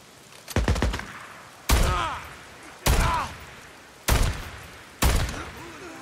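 Five heavy gunshots from a firearm in the game Days Gone ring out about a second apart, each a sharp loud blast trailing off into a reverberant echo.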